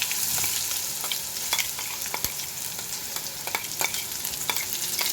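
Pointed gourd (potol) frying in a pan, a steady bright sizzle broken by sharp spatula scrapes and clicks as it is stirred, close and without talk.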